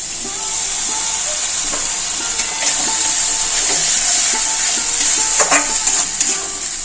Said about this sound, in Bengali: আর বেটে রাখা মশলাটা দিয়ে দেব।